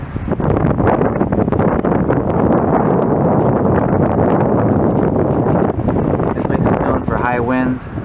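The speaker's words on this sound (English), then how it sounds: "It's really windy up here." Strong wind roars and buffets the microphone in a steady, heavy rush on the rugged coastline at Punta Gorda Lighthouse in the King Range; a voice briefly starts speaking near the end.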